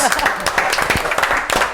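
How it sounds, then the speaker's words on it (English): A crowd at a brewery in Cardiff by the Sea, with Lost Abbey and Port Brewing, claps in scattered sharp bursts while a voice talks over the applause. "Give yourselves a round of applause."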